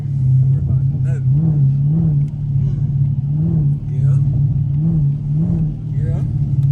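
Engine of a Camaro SS with a 6.2-litre V8, heard as a steady low rumble that rises in repeated rev swells while the car drives in the rain, with people talking over it.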